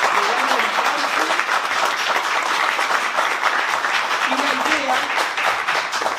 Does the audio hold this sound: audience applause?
yes